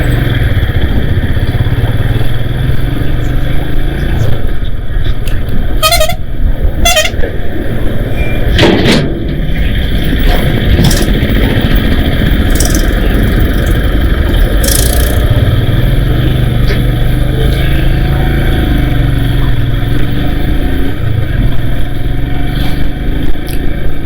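Heavy road traffic on the highway route toward Murthal, heard from a motorcycle on a long solo ride: a loud, continuous roar of engines and road noise with a few sharp, brief bursts around the middle.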